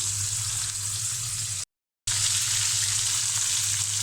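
Fish sizzles steadily in hot oil in a home kitchen, a dense, loud frying hiss with a low hum beneath and one short silent gap partway through.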